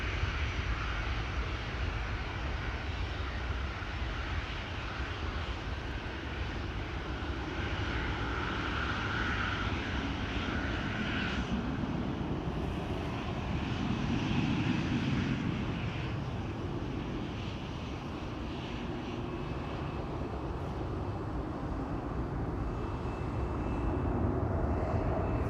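A KLM airliner departing Amsterdam Schiphol Airport, its jet engines giving a broad, steady roar at a distance, swelling slightly with wind noise over the microphone and no talking.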